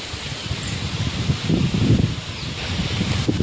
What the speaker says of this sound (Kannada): ಸಿಕ್ಕಾಪಟ್ಟೆ ಗಾಳಿ ಐತೆ ಗೈಸ್